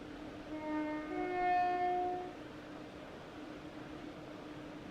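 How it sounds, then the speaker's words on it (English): A train in Train Sim World on the Fife Circle route gives off a steady, whining turbocharger tone with layered harmonics over a low rumble. The whine swells for about two seconds, then fades into a quieter hiss. "That noise you can hear is the train's turbochargers"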